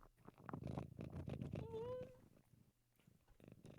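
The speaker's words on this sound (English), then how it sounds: "Your cat. I can hear it purr." A pet cat named Popcorn purrs close to a microphone during an online game chat, a steady low rumble running for about two seconds amid other room sounds, with no one speaking over it.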